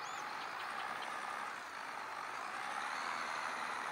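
In the Farming Simulator 23 video game, a tractor stuck while trying to reverse gives a continuous mid-loud engine rumble with a faint hiss and brief high beeps near the start, with no voices.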